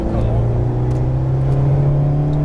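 An Alpine sports car engine drones steadily and climbs gently in pitch as it accelerates, with a constant close mechanical hum.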